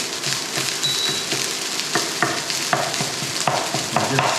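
Egg fried rice is stir-fried in a hot pan, with a loud, continuous sizzle broken by repeated scraping and tossing strokes from a spatula.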